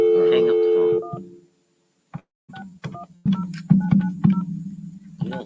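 Touch-tone telephone keypad dialing: a series of short dual-tone beeps in an uneven rhythm, fairly loud and close, following a stretch of talking at the start.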